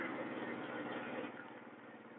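Honda XRM motorcycle engine idling close by with a steady, dense rumble that holds level and eases slightly toward the end, no voices over it.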